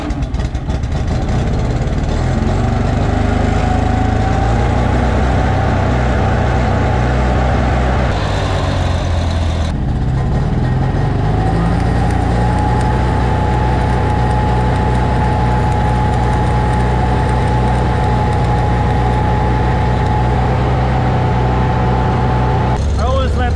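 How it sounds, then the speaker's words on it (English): A Miller Bobcat 225G welder's gasoline engine runs steadily at close range, a constant loud drone with one brief change in tone around the eighth second before settling back to an even idle. "Let's start the welder. Always starts good."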